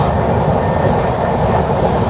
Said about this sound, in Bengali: তো এখন আমাদের ট্রেন ছুটে চলছে